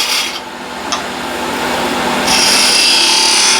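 A skew chisel taking a peeling cut on spinning wood on a wood lathe: a continuous close hiss and shaving rasp that builds and brightens partway through, with no talking.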